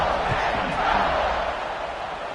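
A stadium crowd at a football game roars steadily just before kickoff, a broad, continuous wash of cheering that stays loud and even throughout with no break.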